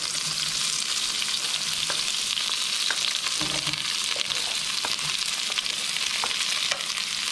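Two chopped brown onions fry in hot oil in a pan on the stovetop for a curry, a steady bright sizzle broken by occasional stirring clinks and scrapes, close and continuous with no talking.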